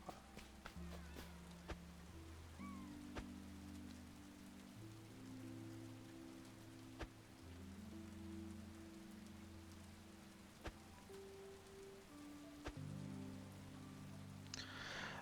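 Steady rain hiss in the video game Paleo Pines runs under a sustained game music bed with melodic tones and a few soft clicks, with no talking.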